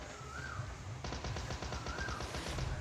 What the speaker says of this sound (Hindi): ये टॉमी गन थी, इतना दूर कहाँ ही उसकी गोलियाँ जाएगी